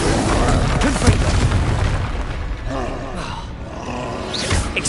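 Spell blasts from a Hogwarts Legacy duel boom and roar in quick succession, loud and dense, with game music and effects layered underneath throughout.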